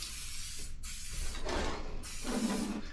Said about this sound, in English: We're going to spray it down with cooking spray.